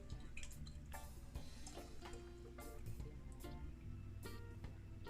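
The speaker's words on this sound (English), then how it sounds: "I'm gonna pour the rest in my fancy container." Juice poured from a container into another vessel, a steady liquid stream with dripping and trickling, close and fairly quiet, alone without talk.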